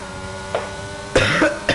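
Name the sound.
cough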